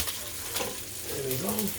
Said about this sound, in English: So there's my asparagus over here cooking